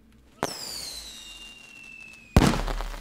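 A loud explosion goes off in the video game Just Die Already, a sharp blast followed by a ringing, falling whine that fades, then a second heavy burst near the end.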